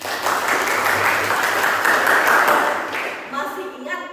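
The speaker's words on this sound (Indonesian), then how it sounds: "Coba tepuk tangan dulu." Students in a classroom clap their hands together in a steady burst of applause that fades near the end, with light talk coming through underneath.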